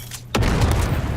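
Grenade explosion in the Dune: Awakening video game: a sudden, loud boom lands about a third of the way in and gives way to a sustained, rumbling roar.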